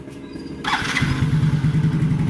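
A Yamaha Mio J motorcycle engine cranks on the electric starter and catches, settling into a steady, close idle with a pulsing low rumble.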